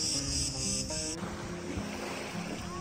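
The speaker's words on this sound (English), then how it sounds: "those bugs. They don't bite, they're just loud." Loud insects buzz in a steady high drone by the sea on Crete, cutting off after about a second and leaving a soft wash of waves and open-air noise.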